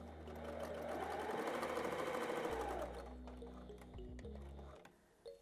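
A heavy duty sewing machine fitted with a standard universal needle, stitch length 4, running steadily through teddy bear fabric, a close continuous motorized whir that winds down and stops near the end.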